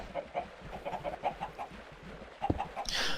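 Chickens on a Minecraft chicken farm cluck in a steady run of short, repeated clucks, with a louder flurry of fowl noises near the end.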